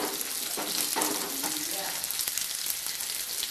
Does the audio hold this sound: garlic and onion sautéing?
yes